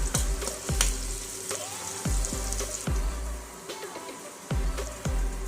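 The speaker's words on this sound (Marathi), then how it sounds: "यानंतर आपण यात कापलेला कांदा घालून घेऊ आणि कांदा छान परतवून घेऊ।" Chopped onion and green chillies sautéing in a pan for a traditional Marathi sushila dish, a close crackling sizzle broken by repeated scraping stirs and low clunks of the spoon against the pan, with no talking.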